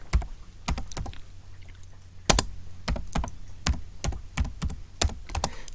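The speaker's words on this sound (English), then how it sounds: "we're going to type in Neo Revelation" A card name being typed on a computer keyboard: a run of sharp, close key taps in an uneven rhythm, each click distinct, with no talk.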